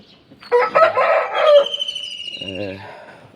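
A home-bred Aseel rooster crows loudly and close by in one long cock-a-doodle-doo, followed by a few softer throaty clucks as it fades.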